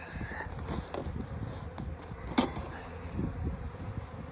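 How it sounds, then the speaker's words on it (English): Bees buzz continuously at close range around a bucket of sugar water, a dense low drone with a brief sharper burst midway. "Lots of bees on it. They're mad."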